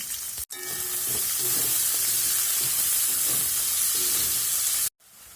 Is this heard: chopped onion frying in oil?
yes